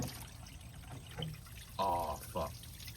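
Coolant spilling out of a disconnected hose on a 1978 Pontiac Trans Am during gasket work, a splashing pour in two short bursts over a noisy garage background.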